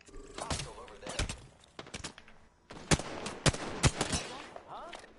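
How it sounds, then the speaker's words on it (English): Video game gunfire: bursts of sharp shots and rapid automatic fire in several clusters, fairly close, mixed with game sounds and brief talk. "Oh, you shoot at me?"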